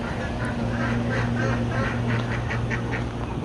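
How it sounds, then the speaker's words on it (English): A flock of young ducks quacking steadily on a desert homestead in extreme heat, many overlapping calls forming a busy, continuous chatter close by, with a low steady hum underneath. "Let's check in on the young ducks."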